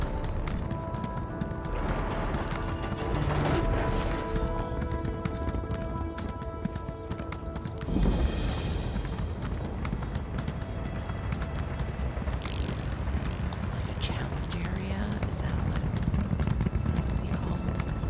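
Horse hooves clip-clop steadily in The Elder Scrolls Online, a continuous galloping rhythm that plays close and clear, with occasional mechanical game sounds and no talking.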